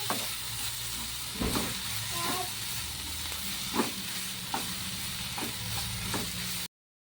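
Ingredients for chicken curry sizzle steadily in a hot pan, with a spoon scraping and stirring at irregular intervals before the sound stops abruptly.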